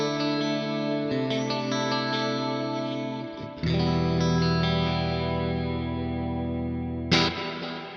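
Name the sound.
electric guitar through Mesa Boogie Mark IIC+ plugin clean preset, reverb, delay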